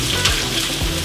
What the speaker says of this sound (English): We're gonna start to saute our onions in some hot olive oil.